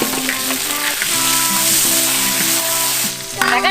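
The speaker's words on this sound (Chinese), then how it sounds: "豆子下锅。" Beans sizzle and fry loudly in a hot oiled pot alongside pig trotters, ginger, bay leaves, Sichuan pepper and dried chilies, a steady close crackle with tonal hum underneath and a brief stir near the end.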